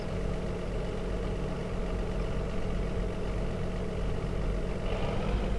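A tractor engine idles steadily in Farming Simulator 25, a continuous low mechanical rumble with no pauses, close and even throughout.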